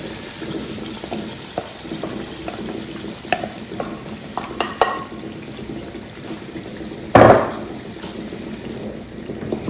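Blended tomatoes sizzle steadily in a cooking pot for a meat stew, with scraping stirring strokes throughout and one sharp louder clatter partway through.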